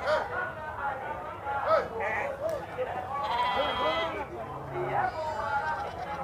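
Several goats bleat in wavering, nasal cries close by at a goat and sheep fair in Campina Grande, Paraíba, mixed with other animal calls and a murmur of people talking in the background.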